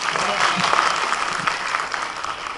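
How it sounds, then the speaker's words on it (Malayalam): A crowd at a Mohiniyattam dance success-meet celebration breaks into steady applause, with people talking over the clapping throughout. "ഒരു കയ്യടി."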